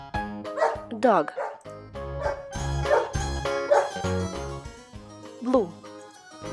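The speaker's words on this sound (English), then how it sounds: "Dog." A toy dog's recorded barks come in a string of close, bright yips and bow-wows, some whining, loud and alone throughout.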